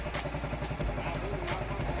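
A motorcycle engine idles steadily during decarbonization cleaning, its exhaust pushing through the silencer with a low, even throb and light clatter, close by.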